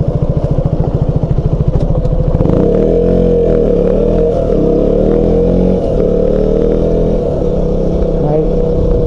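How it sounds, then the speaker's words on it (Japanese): Car approaching and passing while a rider waits on a KTM 200 Duke motorcycle on a prefectural road near Takarazuka, engine idling then a louder swelling rush as the car goes by, continuous and close. "車来ました"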